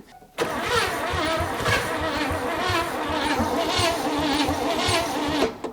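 A 1957 Chevy V8 cranks hard after decades of sitting, the starter churning in a steady, loud, rhythmic pulse for about five seconds before stopping abruptly, without catching.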